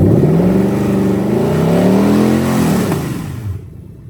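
A Toyota UZ-FE V8 in an IS200 runs with a cylinder misfire, a loud, close, steady engine tone that sways up and down before dropping away near the end.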